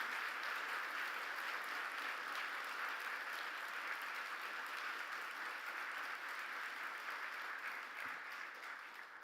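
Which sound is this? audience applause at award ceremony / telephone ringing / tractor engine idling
audience applause at award ceremony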